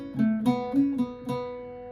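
A short phrase of "Old Hag You Have Killed Me" on Irish bouzouki: four or five close, ringing plucked notes, the last one left to sustain and fade, with no voice over them.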